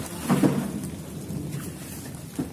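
Steady rain falls with low rumbles of thunder, a couple of heavier booming pulses standing out against the continuous patter.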